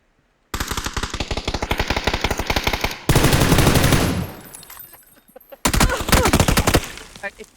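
Rapid automatic gunfire from a shooting video game fills the clip in loud, sustained bursts, broken by a short pause and a heavier blast that fades, then another burst of fast shots.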